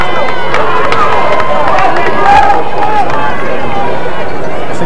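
Crowd at a 1994 high school football game between Hackensack and Paramus Catholic, a loud, dense roar and murmur of many voices, with a commentator talking over it throughout.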